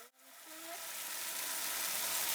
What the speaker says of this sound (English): I'm gonna pass it through. I have a little bit of oil there. It's gonna sprinkle out.